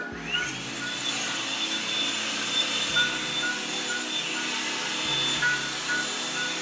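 A Gold N Hot ionic hair dryer runs on its high setting, a steady close-up whooshing motor hum with a few faint clicks as it shifts, with no talking.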